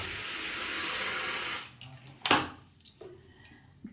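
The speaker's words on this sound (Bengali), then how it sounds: "তো এখন একটু গরম জল ভরে নিচ্ছি," Tap water runs steadily into an electric kettle for about a second and a half, then stops, followed by a sharp clunk and a few quieter knocks as the kettle is handled.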